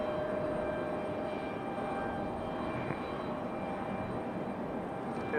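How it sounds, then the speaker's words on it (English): American Airlines Airbus A319 or A320 airliner preparing to depart at Raleigh-Durham airport: a steady, distant engine rumble and whine holding evenly throughout, with no voices. "This American A319, A320 out here in the distance, getting it ready to depart."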